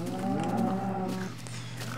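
Cattle moo in a farming video game, a drawn-out low bovine call over a steady game hum, clear and near with no talking.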